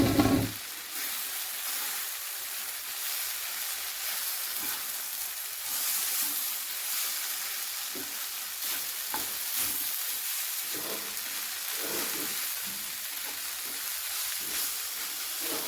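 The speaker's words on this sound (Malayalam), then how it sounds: "ഇനി നമ്മൾക്ക് റൈസ് മിക്സ് ചെയ്യാം." Boiled rice being stirred into pulav in a frying pan, giving a steady sizzling fry with soft scraping stirs throughout, close and continuous with no talk.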